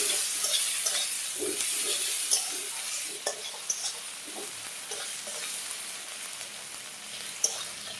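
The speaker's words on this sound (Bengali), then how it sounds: "মশলা কষানো হয়ে গেছে" Spices fry with a soft sizzle in a pan while a utensil stirs and scrapes, giving scattered clinks over a quiet, steady hiss.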